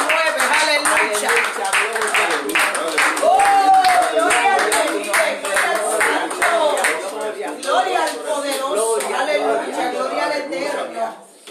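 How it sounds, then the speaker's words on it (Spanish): Congregation clapping in rhythm during a lively church worship service, steady hand claps running throughout with chatter, voices and exclamations mixed in, a short rising tone briefly cutting through. "aplausos al Espíritu Santo, que se pasea, que se mueve"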